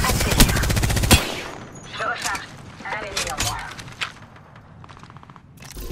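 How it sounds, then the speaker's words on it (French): Rapid automatic gunfire in the video game Apex Legends, a dense close burst followed by scattered shots and mechanical clatter. "Je tire."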